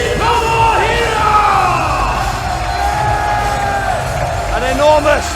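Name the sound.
wrestling crowd ovation for Tomohiro Ishii in Manchester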